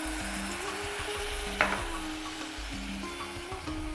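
A splash of water hits spices cooking in a pan for aubergine curry, raising a close, steady sizzle with a brief sharp crackle partway through and faint stirring.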